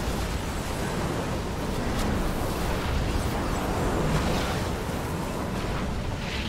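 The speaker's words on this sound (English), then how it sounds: "Scorching bomb." A Scorching Bomb blast during the Scalecommander Sarkareth encounter in World of Warcraft: a dense, sustained rumbling roar of fiery explosion noise, steady and loud across the whole stretch with no talk over it.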